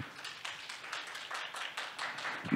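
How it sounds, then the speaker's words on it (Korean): Scattered clapping from a small conference audience after a panel discussion, steady and light, a few seconds of hand claps with no voices. "두 분 연사께 박수 한 번씩만 부탁드리겠습니다"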